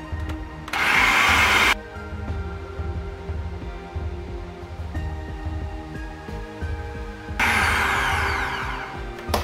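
An electric mixer beating sugar into shortcake mixture, a loud whirring drone that surges at the start and again near the end with a steadier, quieter hum between, no talking.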